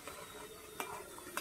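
Eggplant and potato fry in a pan: a faint, steady sizzle with a couple of light scraping clicks as a spoon stirs the vegetables, quiet and close.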